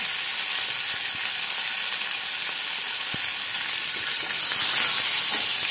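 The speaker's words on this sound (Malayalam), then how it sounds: "ആ കടുക് വറുക്കണം, അത്രയും നേരം കിടന്നാൽ മതി" Mustard seeds frying in hot oil for a buttermilk curry, a dense continuous sizzle and crackle with a few sharp pops, steady and close, swelling louder toward the end.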